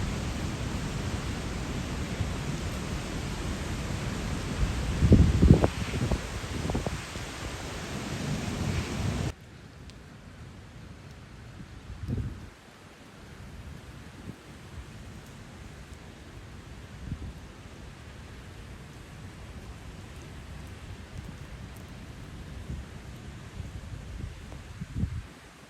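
Heavy rain pouring down in Dubai during a storm with strong wind, a loud steady wash of rainfall with gusty surges and a few distant rumbling thumps, louder at first and then dropping to a softer, sustained downpour.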